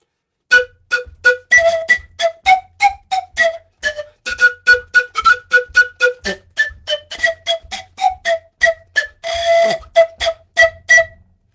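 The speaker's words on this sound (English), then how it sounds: "a wide range of colors and sounds you can get on the panpipes" Panpipe notes blown in short, sharp, detached bursts, a quick run of breathy tones with one longer swelling note near the end, played alone.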